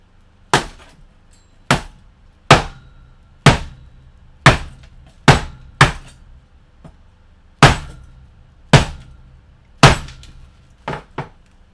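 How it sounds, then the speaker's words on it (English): An ASRock 880GMH/U3S3 motherboard smashed edge-on against a table, roughly a dozen loud, sharp cracking impacts at irregular intervals, each ringing briefly before the next. "Whack it from the side against the table."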